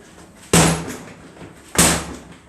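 Two heavy, muffled whacks about a second apart as a boxer's punches land on a pillow, each a sharp thump that fades quickly, with no talking.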